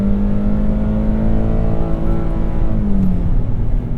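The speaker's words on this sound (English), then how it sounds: "It's a very satisfying engine." A 2022 Nissan Frontier pickup engine revs hard under acceleration, a loud, steady rising drone that climbs in pitch throughout with no talk over it.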